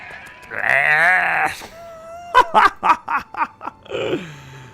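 Sheep in the Nancy Drew game The Haunting of Castle Malloy bleat loudly and close, a long wavering cry followed by a rapid series of stuttering bleats and another drawn-out call.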